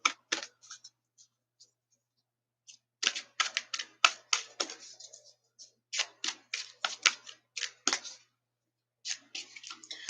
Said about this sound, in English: They're big cards to try to shuffle.